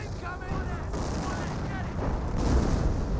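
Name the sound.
officer artillery barrage in the video game Company of Heroes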